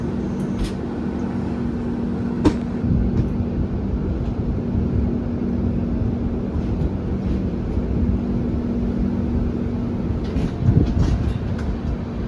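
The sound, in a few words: Konkan Railway train departing and running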